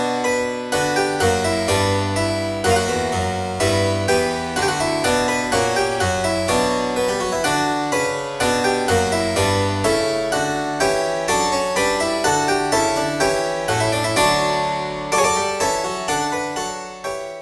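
A newly composed Bach-style gavotte played on a keyboard instrument, with bright interwoven contrapuntal lines in a steady, lively dance rhythm, continuous and clear throughout.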